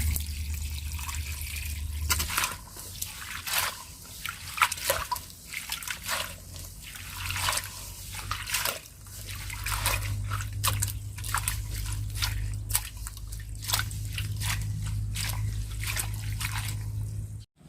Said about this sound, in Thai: เราเติมน้ำเลยค่ะ หนึ่งลิตรนะคะ เพื่อเราจะได้ขยี้ใบสับเขือนะคะ